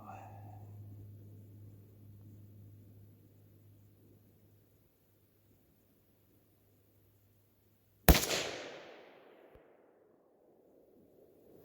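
A single sharp crack from a Savage 93G .22 Magnum rifle firing CCI or Hornady ammunition outdoors, loud and close, with a quick ringing decay after a stretch of quiet.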